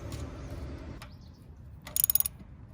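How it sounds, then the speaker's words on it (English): A ratchet wrench tightens a 13 mm bolt on a Royal Enfield Bullet motorcycle during an oil change. Near the end comes a short, close burst of rapid metallic clicks over faint background noise. "And tighten again, it's 13 millimeter."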